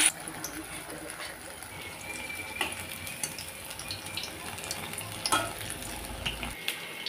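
Batter fritters made with bok flowers fry in hot oil with a faint, steady sizzle, broken by occasional light clinks of a utensil against the pan, heard close and without talking.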